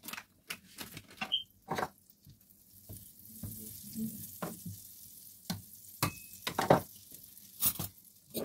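Vegetables for spring rolls sautéing in a pan, a quiet sizzle broken by sharp scraping and tapping of a spatula, close and intermittent.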